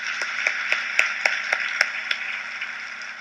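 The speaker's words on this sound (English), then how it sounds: "I think we owe her a round of applause" An audience at a symposium gives a round of applause, heard as a short burst of scattered, fairly crisp claps that fades after about two seconds.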